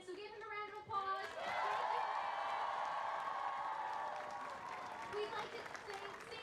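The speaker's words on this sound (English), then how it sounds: "So give him a round of applause." A crowd at an outdoor climate strike rally applauds the sound technician, with sustained clapping and a few cheers that swell and then taper off. A voice speaks briefly at the start and again as the clapping fades.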